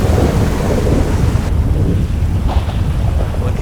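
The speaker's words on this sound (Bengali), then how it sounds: "এদিকে খুব ভালোই বৃষ্টি হচ্ছে প্লাস বজ্রপাতও হচ্ছে" Heavy in-game rain pours steadily in GTA 5 with low rolling thunder rumbling underneath, loud and continuous throughout, with no voices.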